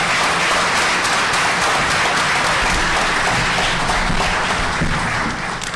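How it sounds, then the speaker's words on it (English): A crowd at a political candidates forum breaks into a loud, continuous round of clapping that holds steady for several seconds with no voices heard over it. "one more round of applause for Houston Barrow,"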